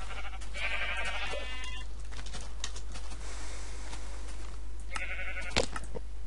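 Sheep bleating in the video game Minecraft, a few short synthetic bleats rising over a steady low background hum, with no talking.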